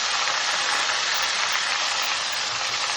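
Steady, dense sizzling and crackling of banana chips frying in hot oil, loud and continuous throughout with no voices.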